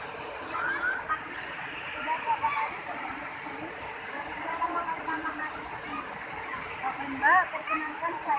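Steady rushing splash of a twin waterfall at a tourist site in Indonesia, a continuous broadband roar from nearby with faint voices talking underneath.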